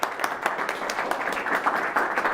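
An audience claps for a volunteer at an indoor event, with a short burst of dense, even applause at moderate loudness.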